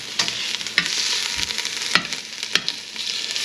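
Basil and tomato paste frying in a pot for Guyanese metemgee, with a steady close sizzle broken by several sharp stirring scrapes and clacks spread through the clip.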